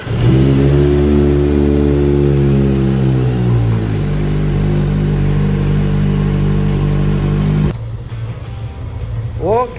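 A Kawasaki ZX25R motorcycle engine revs hard after a service, with a loud high-pitched wail that climbs and holds for several seconds, then drops suddenly to a rough idle.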